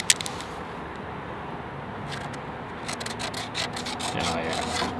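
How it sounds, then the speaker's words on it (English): On a Cadillac's paint, a tool scrapes off black paint pen in short, gritty rubbing strokes close to the microphone. The strokes grow busier toward the end. "So I'm gonna scrape it off a little bit"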